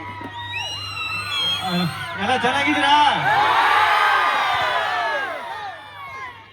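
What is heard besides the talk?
crowd applauding and cheering at Budanur festival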